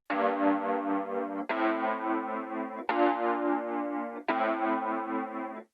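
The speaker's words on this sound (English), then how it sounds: "we also have a Wurlitzer, but this one comes from the Arturia Analog Lab library, which is one of my favorites." Wurlitzer electric piano sampled from the Arturia Analog Lab library plays four sustained chords, each struck and held for about a second and a half, warm and harmonically rich, with no talking.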